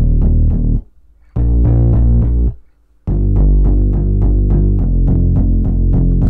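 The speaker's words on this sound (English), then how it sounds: "take the bass notes from those chords and put them into some bass presets" Synth bass from FL Studio Flex presets playing the root notes of a pop chord progression, heavy sustained low tones in three phrases with short pauses between, the last section adding a rhythmic plucked pattern on top.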